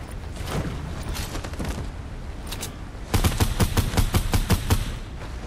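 Gunfire from the video game Fortnite in a Zero Build match: scattered shots at first, then a loud rapid burst of about a dozen evenly spaced shots close by, with no talk over it.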